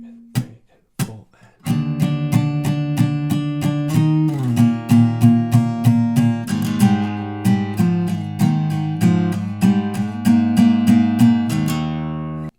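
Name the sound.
acoustic guitar strumming all downstrokes in eighth notes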